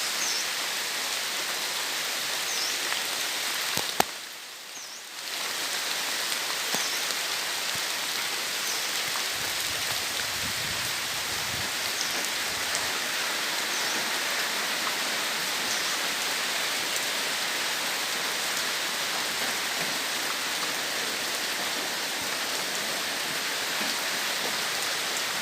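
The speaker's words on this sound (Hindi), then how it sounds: "कितना बारिश सुबह से हो रहा है बारिश" Heavy rain pours down steadily on a rainy day, a dense, even hiss that fills the whole stretch, with one brief dip in the middle and no talking.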